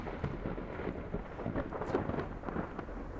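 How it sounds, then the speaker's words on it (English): Thunderstorm in the video game STASIS: a low, continuous rumble of thunder with steady rain hiss beneath, moderately loud and without speech. "The storm."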